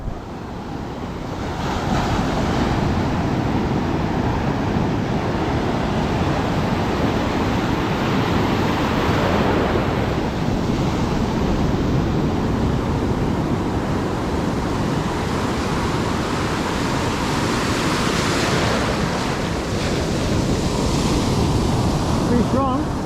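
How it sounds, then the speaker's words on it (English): Strong surf pounds a sandy beach in southern Sri Lanka while wind whips up sand, a continuous roaring wash of breaking waves with heavy wind buffeting on the microphone throughout. "Surf is quite strong."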